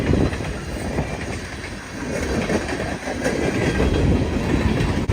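A long freight train hauled by four locomotives and carrying excavators, logs and frames rolls past close by, a loud steady rumble with clattering wheels throughout.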